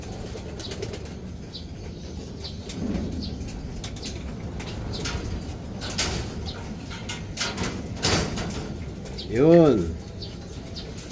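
Pigeons coo and flutter in a busy enclosure, with a brief louder rising call near the end and a short spoken word over the background.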